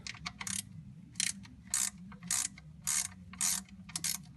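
A ratcheting wrench loosens a car's oil drain plug with a quick series of close, crisp clicking bursts in an uneven rhythm.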